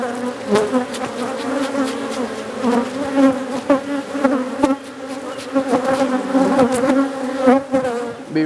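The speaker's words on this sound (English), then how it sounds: "I'll shake the bees off of it." Honeybees from an opened hive swarm around a frame being handled, a loud, dense, continuous buzz with droning tones and wingbeats passing close by, steady throughout.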